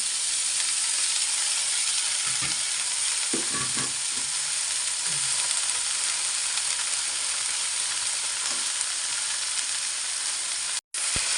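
Bottle gourd stems frying with onion and garlic in a pan, a steady loud sizzle and hiss throughout with a few soft stirring knocks early on and a brief dropout near the end.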